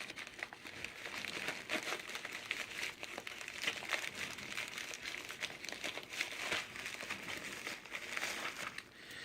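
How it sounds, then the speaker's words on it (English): Trauma shears cut the top off a coin mailer package, making a continuous close crinkling and rustling of packaging material with no talking. "So we use this pair of trauma shears to cut the top open on this."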